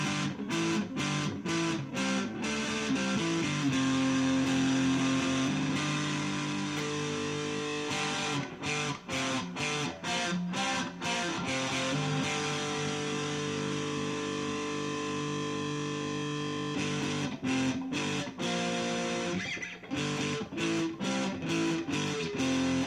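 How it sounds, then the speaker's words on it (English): An electric guitar plays double stops through heavy gain and distortion, with loud, gritty, sustained chords and choppy muted strums. "if I put on the gain, the distortion, and I give it a heavier edge, a little rougher edge,"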